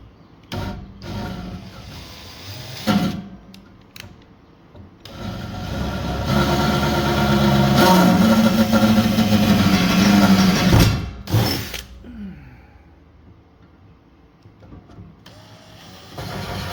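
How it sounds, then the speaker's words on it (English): Power drill boring into a pickup truck's cab roof to mount a roof rack, a loud sustained whine that rises and holds for several seconds, preceded and followed by shorter bursts and handling noise. "Alright, so now I'll drill it."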